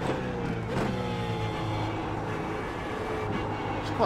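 A BMW Z4 GT3 race car engine at Spa in the sim game iRacing drones steadily, with a continuous harmonic engine tone and a brief rise partway through, heard close and loud with no talk.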